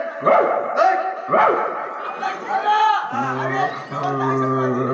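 A dog barks in sharp, close bursts, two or three yaps followed by whining, with people talking over it during a rural comedy stage performance.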